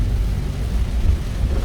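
Rain on a car windscreen, a dense, loud, low rumbling wash with a constant patter and no distinct strokes or voices.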